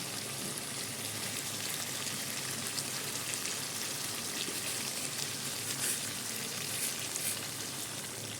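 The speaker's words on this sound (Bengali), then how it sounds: "এবার আমি যে গরম জলটা করে রেখেছিলাম ওটা আমি দিয়ে দেবো।" Hot water poured onto braised meat and spices sizzling in a pan gives a dense, even hiss and bubbling that holds steady throughout at moderate loudness, with no voices.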